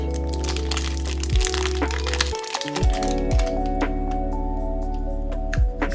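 Crinkly plastic packaging is torn and crunched open around a speed cube, with a series of close, sharp cracks and crumpling bursts.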